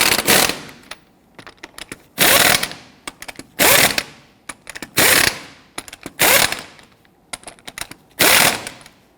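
A power tool snugs down the lug nuts on a 2006-2010 Hummer H3 in a crisscross pattern, with about six loud, close hammering bursts separated by quieter clicks and handling noise.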